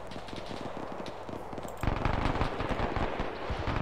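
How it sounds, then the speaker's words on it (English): Machine guns fire from a pillbox in Arma 3's WW2 setting in rapid, loud bursts of cracking shots, with a denser, heavier barrage breaking out halfway through over a low battlefield rumble. "I got them MGs in the pillbox by the window"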